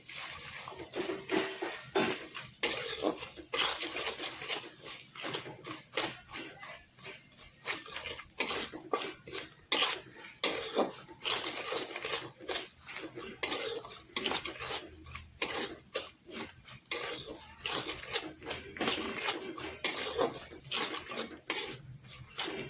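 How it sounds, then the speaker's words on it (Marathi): Peanuts and roasted chana dal with spices roasting in oil for wet bhel, stirred steadily in a pan, giving a continuous run of close scraping and clinking with no one talking. "पहिल्यांदा शेंगदाणे आणि फुटाणी डाळ पूर्णपणे भाजून घ्यायचे आणि त्यामध्ये आपले राहिलेले मसाले टाकून घ्यायचे।"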